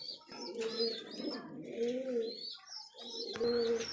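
Bombay pigeons, a big red pair, coo in a repeated rolling rhythm, close and clear, with a few higher chirps mixed in.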